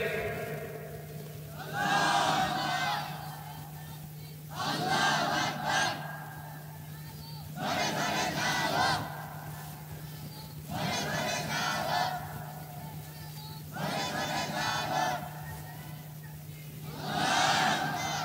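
A large religious gathering in Bengal chants a takbir call and response: a single voice leads and the crowd roars back in loud, rhythmic bursts, about six rounds separated by brief pauses with a steady hum beneath.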